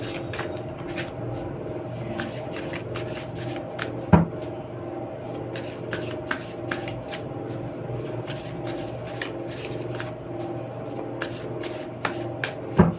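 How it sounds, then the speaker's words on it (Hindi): Tarot cards shuffled by hand in a steady run of riffling, flicking card sounds, close and fairly loud, with a few sharper slaps along the way and no talking. "थोड़ा अच्छे से शफल कर लेते हैं।"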